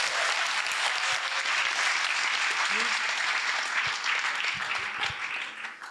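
A hall audience breaks into dense, sustained applause that stays loud throughout, with many hands clapping together and fading slightly at the end.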